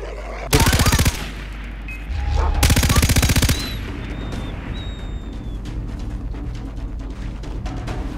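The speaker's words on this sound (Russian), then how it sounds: "Я встаю за пулемет!" Two loud bursts of machine-gun fire ring out in the Far Cry 3 video game, each a dense rapid rattle lasting about half a second, followed by quieter in-game ambience with distant shots and faint tones.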